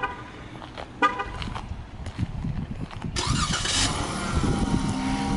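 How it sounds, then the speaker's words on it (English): A 2014 Dodge Charger SXT with a 3.6-liter V6 starts by remote start, a cranking whir followed by the engine catching into a steady, fairly loud idle that fills the rest of the clip. "it also has a remote start. So I'm going to go ahead and start it up"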